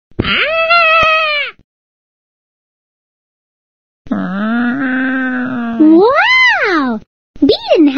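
A person imitates a cat: drawn-out meows, one long call, a pause, then a longer wavering call rising and falling, followed by a short final meow.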